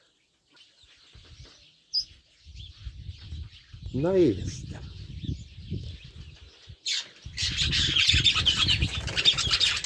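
Parrots in a garden aviary squawk and chirp, with scattered calls, one rising squawk and a burst of loud chattering toward the end, mixed with a person's brief speech.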